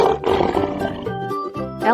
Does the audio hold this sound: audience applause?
no